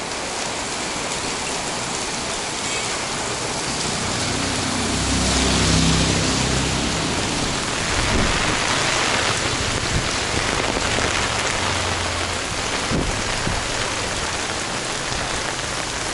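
Rain pours down on a street in Danang, Vietnam, a dense, loud, steady hiss of drops hitting the surface and an umbrella overhead, swelling slightly midway, with no voices.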